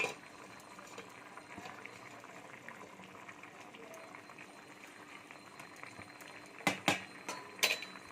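Fish curry with cauliflower and potato boils quietly in a pot with a faint, steady bubbling hiss, then a few sharp metallic clinks of utensils against the pot near the end.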